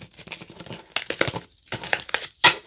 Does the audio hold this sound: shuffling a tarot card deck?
yes